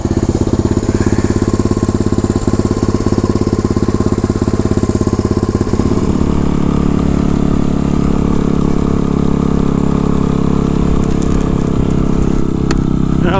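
A small Honda motorcycle engine on a cold day catches without choke and settles into a loud, steady idle, its rhythm shifting slightly partway through as it runs on alone.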